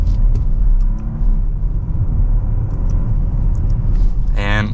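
A 2024 BMW 740i accelerates in second gear in sport mode, with a loud, steady low engine and road rumble heard from inside the cabin that holds level throughout and ends with a brief higher whir.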